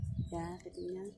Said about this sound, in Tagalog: Narinig niyo yung mga ibon